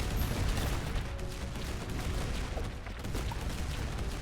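Landmines going off in the tower-defense game Emberward, a dense, continuous rumble of muffled blasts and crackling impacts layered with busy game noise, steady and loud throughout with no one speaking.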